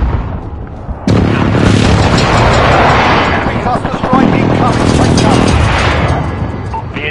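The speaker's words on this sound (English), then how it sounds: "Enemy precision airstrike. Take cover." Enemy precision airstrike in a military shooter game: a sudden loud roar of explosions bursts in and rumbles on for several seconds, swelling again midway, close and heavy.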